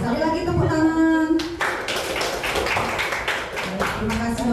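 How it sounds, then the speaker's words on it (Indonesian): A seated audience of teachers at an Indonesian school dissemination session claps together. A voice speaks briefly, then a burst of dense, lively hand clapping fills the rest of the clip at close range. "sekali lagi tepuk tangan"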